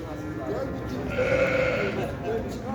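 At a small-livestock market in Şarkışla, a sheep lets out a single drawn-out bleat over a crowded background murmur of voices and other animals.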